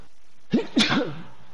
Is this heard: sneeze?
yes